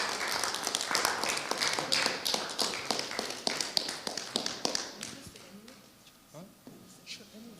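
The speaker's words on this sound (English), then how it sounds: "Let's give her a round of applause" A workshop audience gives a round of applause: dense, steady clapping fills the first five seconds, then thins out and fades as a few scattered claps and quieter sounds trail off.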